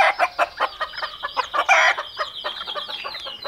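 Several chickens clucking and chattering close by, a busy run of short overlapping calls with one louder squawk in the middle.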